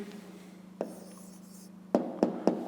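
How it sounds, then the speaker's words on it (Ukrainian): Pen writing down the answer to a fifth-grade maths exercise, a soft scratch followed by several sharp taps close by, with faint whispering near the start. "Ну що ж, записуємо тоді відповідь."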